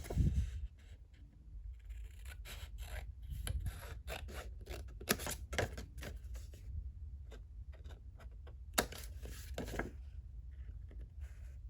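Scissors snip through 6x6 craft paper while a double pocket pouch is cut out, in a quiet series of short, crisp cuts at irregular intervals. The cutting is close and faint.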